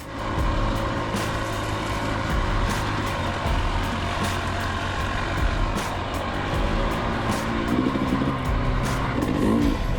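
Dirt bike riding a trail in an Idaho riding area, a continuous loud engine drone holding steady throughout, with wind and rough ground noise mixed in and no talk.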